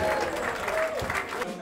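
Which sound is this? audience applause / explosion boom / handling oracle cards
audience applause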